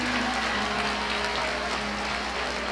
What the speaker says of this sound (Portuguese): Pode aplaudir mais forte o nome de Jesus.